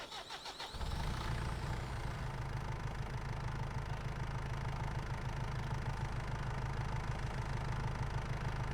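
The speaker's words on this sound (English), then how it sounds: "let's move the tractor a little closer now" A tractor engine in Farming Simulator turns over, then settles into a steady mid-pitched idle with an even throb that runs unbroken and alone for several seconds.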